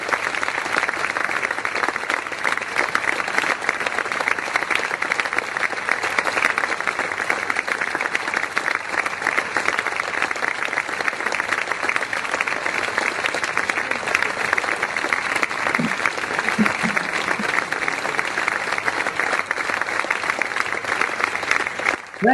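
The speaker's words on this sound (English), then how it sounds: "Here we go with an applause" Sustained audience applause fills the space, a dense, steady wash of many hands clapping at an even loudness throughout, with no voices standing out.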